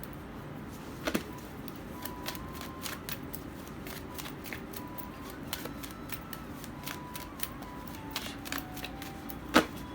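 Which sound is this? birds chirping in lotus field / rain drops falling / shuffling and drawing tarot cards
shuffling and drawing tarot cards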